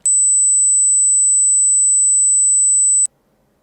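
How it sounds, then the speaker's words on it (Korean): A piercing 8 kHz high-frequency test tone, one loud unwavering pure beep lasting about three seconds and then stopping sharply. "자, 8kHz 소리 한번 들어보겠습니다."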